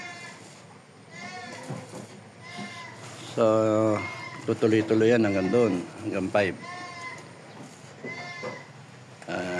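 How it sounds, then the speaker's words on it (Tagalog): A goat cries and bleats loudly at a farm camp with goat sheds, giving several wavering, quavering calls in the middle of the clip while someone talks before and after them. "May umiiyak na kambing."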